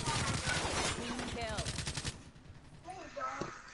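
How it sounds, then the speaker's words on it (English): Rapid bursts of automatic gunfire in a video game, rattling steadily for about two seconds, then fainter scattered shots and game effects, with voices talking over the action. "Wait, Hano, look at how fast this reloads."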